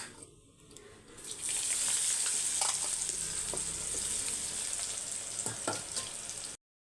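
Meal maker soy chunks frying in hot oil give a steady, loud sizzle that rises after the first second and holds, with occasional stirring clicks from a utensil, close up and without speech.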